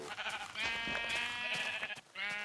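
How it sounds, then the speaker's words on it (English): Several Minecraft sheep bleat in quick succession, close and fairly clear, with wavering repeated cries over a quiet background. "Oh man, that's a lot of sheep."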